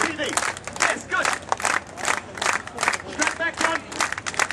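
A crowd watching a street performer claps together in quick regular bursts, loud and close, with shouts and cheers mixed in.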